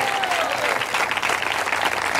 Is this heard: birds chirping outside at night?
no